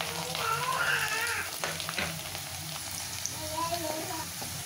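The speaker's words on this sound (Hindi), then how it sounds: "साथ ही जीरा डाल देंगे" Cumin seeds and garlic sizzling in hot oil in a pan, a dense close crackle with stirring scrapes, louder at first and then settling into a steady fry.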